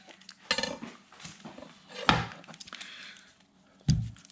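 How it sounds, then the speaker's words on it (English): A knife slicing the root end off an onion: a few sharp, close knocks of the blade striking the cutting surface, spaced apart over quiet handling noise. "we'll cut off the root"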